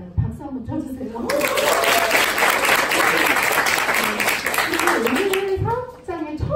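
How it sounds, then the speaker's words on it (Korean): An audience at a business presentation claps in a loud, sustained burst of applause lasting several seconds, with speech before and after it. "박수 한번 쳐주세요."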